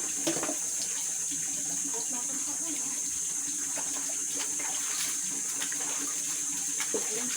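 Water runs and splashes steadily during a goat's bath, with a continuous hiss and scattered sharper splashes and drips close by.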